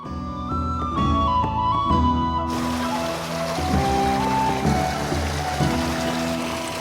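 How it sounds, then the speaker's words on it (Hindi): Water gushing steadily from a mountain spring spout, a continuous close rushing splash with no voices over it, only a musical backing line audible at the start. "धारे पे पानी खूब आता देख बढ़िया लगता है भाई"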